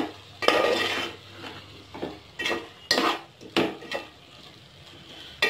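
A spoon stirring a spiced rice mixture with yogurt and sugar in a pot: repeated scraping and knocking strokes against the metal, close and fairly loud, spaced irregularly with short pauses between.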